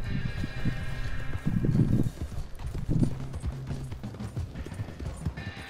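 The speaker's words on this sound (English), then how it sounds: "There's a horse over here, man." Horse hooves clip-clop steadily in Red Dead Redemption 2 online play, a repeated rhythmic clatter with a faint whinny, fairly close amid busy game ambience.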